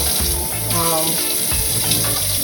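Cold water running from a kitchen tap, a loud, continuous splashing rush close by with shifting gurgles as it fills, while a person talks over it.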